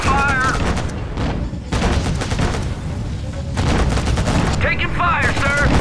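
Incoming gunfire in Act of War: Direct Action, loud bursts of rapid automatic fire and booming impacts packed close together, with radio-style voices speaking over the battle noise.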